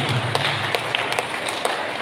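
A church congregation at a Christmas celebration applauds the catechism teachers and children, a dense crowd of clapping with a few sharper claps standing out, brief and moderately loud.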